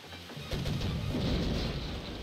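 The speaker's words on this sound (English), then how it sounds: "Nimbly dodging between the cannon fire." Ship cannon fire in the naval game Sid Meier's Pirates!: a sustained, rumbling barrage of booms that swells after a short quieter opening and stays loud and dense throughout.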